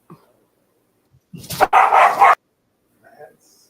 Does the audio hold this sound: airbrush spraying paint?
no